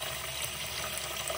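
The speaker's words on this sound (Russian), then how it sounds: "заливаю водой." Water runs steadily into a cooking pot holding peeled new potatoes, a continuous close splashing rush with no pauses.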